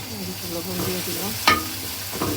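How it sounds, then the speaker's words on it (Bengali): Garlic, green chili and paste frying in a pan with a pinch of salt, making a steady soft sizzle with a sharp clatter of a utensil midway and a smaller knock near the end. "আমি এখন রসুন, কাঁচামরিচ, পেস্ট এখন একটু দিব, একটু হালকা লাল লাল করবো।"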